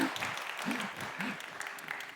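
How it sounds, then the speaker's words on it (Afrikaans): Church congregation applauding after a sermon, a steady wash of hand clapping that carries throughout, with a voice speaking faintly beneath it. "Kom ons klap vir hulle hande."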